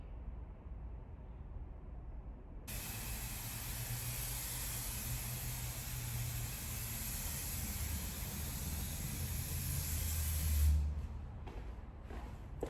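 An aerosol sprays onto fabric, a continuous hiss that starts abruptly and holds steady for several seconds, then cuts off, leaving a quieter low rumble.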